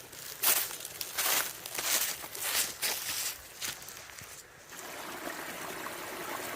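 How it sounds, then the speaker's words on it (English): Water trickles down a small stream along a wooded hiking trail on the Washburn Trail at the Broad River Greenway. It is a steady close wash, with crunching footsteps and crinkling sounds layered over it and no talking. "There's more water trickling down from up there."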